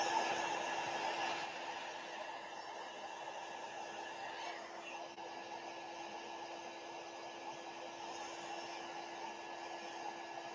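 A hair dryer blows steadily on goop, a constant close whooshing whine with a slight drop in loudness after the first second and no talk.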